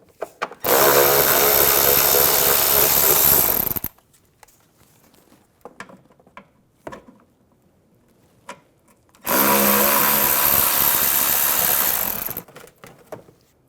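Power tool whirring in two sustained bursts of about three seconds each, close and loud, while bolts are removed with an 8mm socket on a 2009-2013 BMW 328i xDrive during headlight washer pump replacement, with faint clicks and handling noises between.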